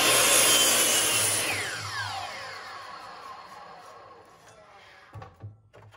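A broken post-hole digger handle is cut off, giving a loud, close rasping saw noise at the start that gradually fades, then a few light knocks near the end.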